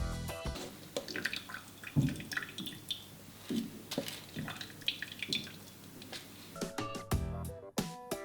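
Grated potato juice drips through a sieve into a bowl, with scattered small drips and splashes plus light clinks of kitchenware, close and fairly quiet, with no talking.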